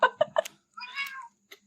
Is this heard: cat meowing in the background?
yes